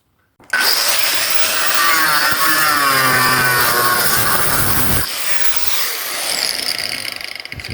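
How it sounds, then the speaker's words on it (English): An angle grinder with a slitting disc cutting metal on an Opel Manta restoration, a loud, close, continuous whining screech that starts abruptly and eases slightly partway through, with no voices. "Can we get in with an angle grinder on the back of that?"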